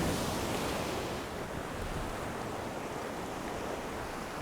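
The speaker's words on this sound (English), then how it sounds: "Oh, here comes a big wave." Big ocean waves breaking on a rough shoreline, a loud broadband roar that swells at the start and then settles into a continuous wash of surf, mixed with wind buffeting the microphone.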